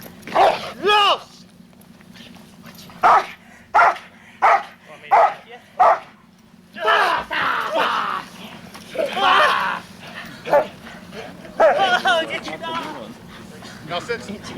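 A Gunnison prison K-9 police dog barks in sharp, loud bursts during a training exercise, first spaced singly, then mixed with a handler's encouraging shouts and talk.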